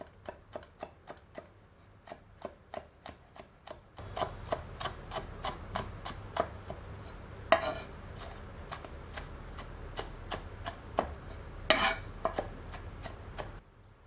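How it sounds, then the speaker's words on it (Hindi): Four to five green chilies being finely chopped with a knife on a cutting board, a rapid run of crisp, close taps that speeds into a denser rhythm with a couple of louder scraping knocks. "अब 4 से 5 हरी मिर्चों को एकदम बारीक काट लेते हैं।"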